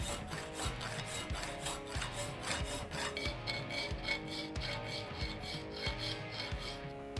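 A coarse half-round file rasps a metal Aermacchi front hub clamped in a bench vise, giving steady back-and-forth strokes at an even rhythm, close up and without talk.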